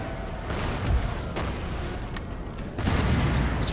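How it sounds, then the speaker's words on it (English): Artillery firing in the Napoleonic battle game Napoleon Total War, a run of booming cannon shots and rolling gunfire with a heavy blast near the end, no speech. "Firing on them with the artillery."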